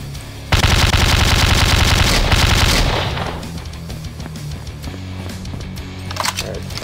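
A loud, close burst of rapid automatic gunfire in a video game hammers for about two seconds and then fades into scattered shots and in-game clatter.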